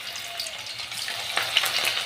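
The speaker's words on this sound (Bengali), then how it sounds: "এ দেখো এইভাবে এইগুলো তেলে ভেজে নেব একটা একটা করে।" Banana flower pakoras frying one at a time in hot oil, a steady close sizzle with soft crackles and a few sharper pops.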